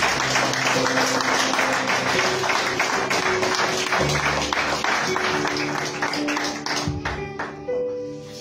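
A church congregation giving a loud round of applause to the Lord, a dense crowd clapping that fills the whole stretch, with a voice or music faintly under it, before it thins out near the end.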